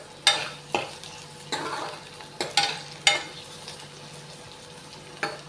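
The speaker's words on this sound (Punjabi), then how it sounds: "ਇਧਰ ਨਾਲ ਦੀ ਨਾਲ ਜੀ ਆਪਣਾ ਤੜਕਾ ਵੀ ਤਿਆਰ ਹੋ ਰਿਹਾ" Crackling sizzle of a spice tempering in a hot pan for salted rice, in several sharp bursts, each flaring then settling into a low steady hiss, with no talking.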